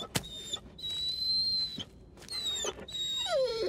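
A dog in the Blair Witch video game, giving short whines and whimpers at close range over a low ambient background.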